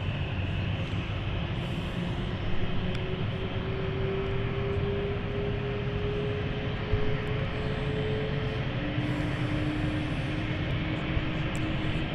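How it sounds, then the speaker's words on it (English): An Embraer E190 airliner on the Ibiza flight at London City Airport rumbles as a broad, steady engine roar, with a gliding whine rising and settling over twelve seconds and no voices. "And a flight which we are currently watching right now, this is the Ibiza flight."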